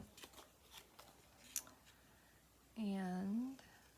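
Scissors snip across craft paper with a couple of quick, light cuts, followed by a brief voiced hum or vocal sound close to the microphone.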